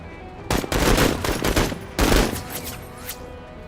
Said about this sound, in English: There, we can shoot him.